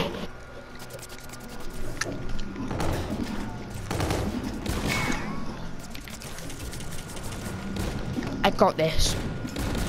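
Gunshots ring out in the video game Call of Duty as a string of sharp reports and a noisy firefight texture, heard under a player's brief spoken remark.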